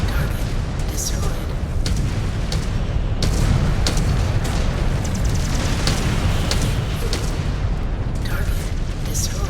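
A destroyed target explodes in the MechWarrior video game with dense, continuous booming and rumbling blasts. Repeated heavy bursts of combat noise fill the whole stretch.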